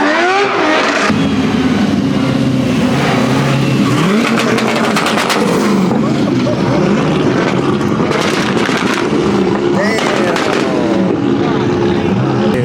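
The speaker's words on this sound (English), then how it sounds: "Burnouts over there." A car does burnouts at a car meet, its engine roaring and revving hard with screeching tyres, loud and continuous amid crowd noise and nearby voices.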